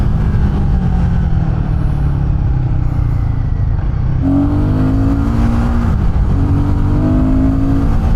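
A Royal Enfield Guerrilla 450 motorcycle engine runs loud and close, holding a deep steady rumble before revving up in rising pulls and settling back.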